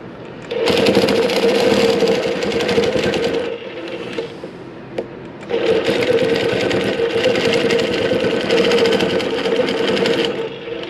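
A longarm quilting machine stitches around a circle on a quilt, making a loud, steady mechanical hum and rapid needle chatter in two long runs separated by a brief pause.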